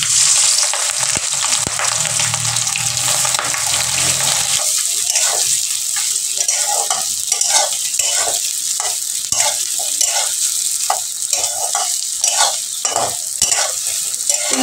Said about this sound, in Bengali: আমি ওই চিংড়ি মাছগুলো এবার ভেজে নেব।